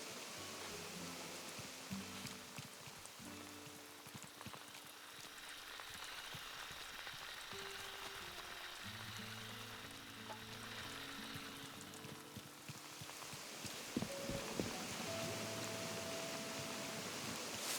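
Rain falls on an island in the Animal Crossing video game as a soft, steady hiss, with gentle game music tones playing underneath and a few brief chimes near the end.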